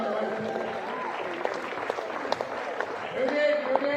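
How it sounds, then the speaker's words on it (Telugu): An audience applauds during a stage welcome for the Diamond Club at a training event, steady clapping swelling toward the end, with a voice talking over it. "और डायमंड क्लब की जोरदार तालियां हो जाए।"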